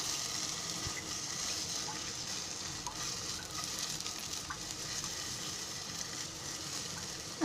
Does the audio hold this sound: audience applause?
no